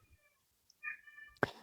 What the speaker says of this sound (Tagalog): Kasi ang pusa ko'y na-meow-meow.